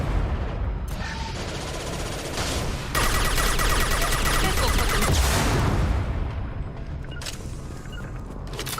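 Dense, continuous rapid gunfire and combat noise from Mass Effect 2 fills the whole stretch at high, steady loudness, with heavier bursts in the middle and no clear talk.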